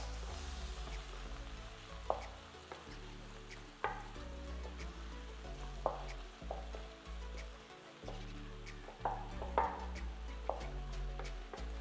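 Onions and mushrooms frying in a pan for a vegan breakfast: a constant soft sizzle broken by repeated clacks and scrapes of a utensil stirring, close and fairly quiet, with no voices.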